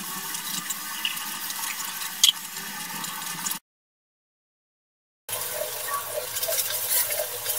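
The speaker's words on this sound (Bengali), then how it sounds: "মশলার বাটি দিয়ে একটু জল দিয়ে দিচ্ছি" Water pours from a spice bowl into a cooking pan holding ground spices, ginger and green chili paste, a soft close splashing trickle that breaks off into a short silence and then picks up again.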